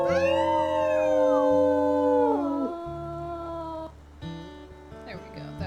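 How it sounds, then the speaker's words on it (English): A wolf lets out a long, loud, wavering howl in the WolfQuest video game, with several overlapping howls rising and falling before fading into quieter calls and background game sounds. "Let's see about doing a howl."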